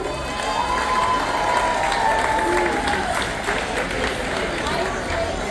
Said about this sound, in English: now a round of applause for deck number 5